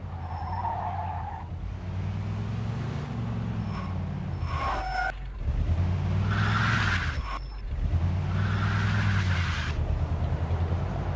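A car in Mafia II drives through a gate into a yard, with repeated loud tire squeals and skids over a steady engine drone. Several sliding squeals rise and fall across the passage.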